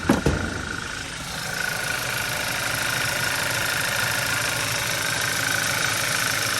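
A 2014 Audi A4 with the 2.0T engine idles after a cold start, opening with a brief loud catch before settling into a steady, even mid-pitched hum with a faint high whine, recorded close with no voices.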